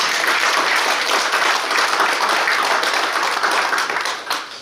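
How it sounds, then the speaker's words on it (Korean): Encouraging applause from the audience at a founding assembly, loud continuous clapping that fades out near the end. "우리가 다시 한번 격려의 박수 부탁드립니다."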